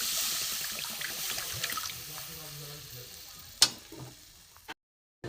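Water is poured into a hot cooking pot holding nuts for a cauliflower semolina recipe, setting off a loud rushing sizzle that fades gradually, then a sharp metallic clank before the sound cuts out.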